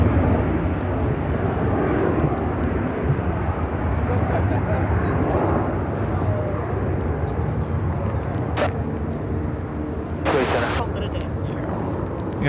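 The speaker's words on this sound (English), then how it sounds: "This is United Airlines 881 taking off to Tokyo Haneda on the" United Airlines Boeing 787-10 Dreamliner taking off from O'Hare, a loud, steady broadband jet roar filling the whole clip, with a few brief sharp noises near the end.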